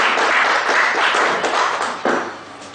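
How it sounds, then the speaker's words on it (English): Audience applause after a talk on becoming a successful chartered accountant, a burst of many hands clapping that starts full and gradually thins and fades toward the end. "Huge round of applause, ladies and"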